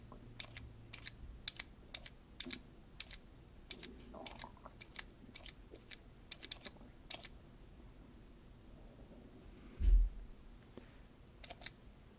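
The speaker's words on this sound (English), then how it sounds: "now we're just going to type in our text." Text is typed on an iPhone touchscreen keyboard, giving a quiet run of fast, irregular clicks at close range. A single louder thump lands near the end, with no talking.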